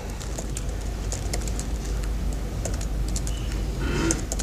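Steady clicking of keys on a keyboard, close and continuous, with faint birds cooing in the background.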